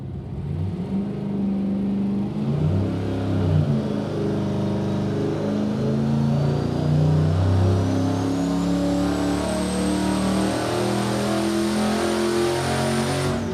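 A boosted junkyard short-block engine revs hard on a dyno, its loud stepped roar climbing and shifting in pitch, with a rising turbo whine above it throughout.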